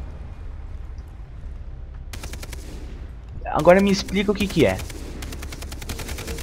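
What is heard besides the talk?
endless gunfire from dancing enemies in video game Far Cry 3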